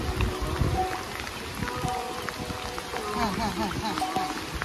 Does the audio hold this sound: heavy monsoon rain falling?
yes